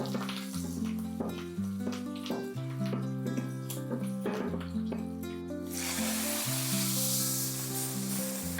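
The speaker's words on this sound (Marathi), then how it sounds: "आता हा सगळा गरम तडका आपल्याला ह्या सांबरवरती टाकून घ्यायचा." A hot tadka of red chilies and curry leaves poured onto Udupi-style sambar gives a sudden loud hissing sizzle that swells and holds near the end, under steady background music.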